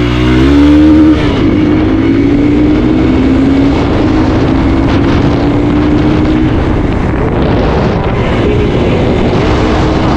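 A Hero XPulse 200T motorcycle carrying a pillion pulls away from a start, its engine note climbing in pitch as it accelerates, with heavy wind buffeting the microphone.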